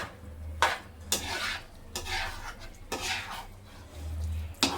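A spoon stirring and scraping egg fried rice with salt in a pan, several distinct scrapes and clinks at an even pace over a faint sizzle, close and fairly quiet.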